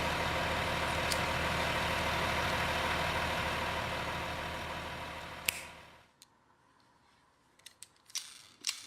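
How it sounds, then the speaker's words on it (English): A police pickup truck's engine idles with a steady, close mechanical rumble for several seconds, then cuts off, leaving near-silence broken by a few sharp clicks and knocks. "Police pickup."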